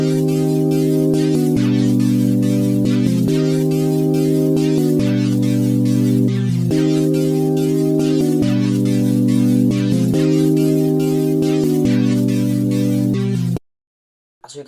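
Serum synth preset from a Moons and Stars bank plays a simple, loud sustained chord progression, chords changing about every second and a half in a steady loop, alone before cutting to silence at the end.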